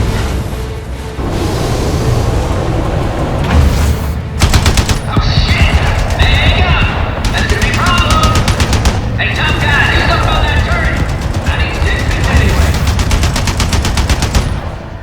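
Gunfire in Resident Evil 4 Remake, with repeated bursts of loud shots and booming impacts over a busy game soundscape, accompanied by someone talking over the action.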